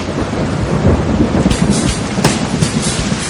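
Heavy rain pours down steadily with a deep, rolling thunder rumble. A few sharper cracks break through the dense roar, close and loud with no voices.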